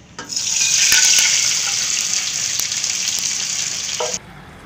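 Masala chicken hits hot oil on a tawa with a sudden loud sizzle that stays bright and steady for about four seconds before cutting off abruptly, heard close with no talking.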